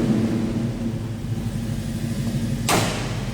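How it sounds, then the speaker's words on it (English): A 1972 Chevrolet C10 pickup truck engine idles steadily with a low, continuous rumble, and a brief sharp whoosh or thud cuts in near the end. "It is just a nice sounding truck."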